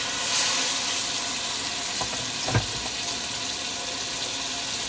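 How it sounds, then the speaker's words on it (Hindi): Half a cup of water poured into chicken korma cooking in a pan over a full flame gives a steady, fairly loud rushing hiss for about five seconds, with a couple of faint knocks partway through. "इसी हालत में मैं इसमें तकरीबन आधा कप जो है वो पानी शामिल कर रहा हूँ।"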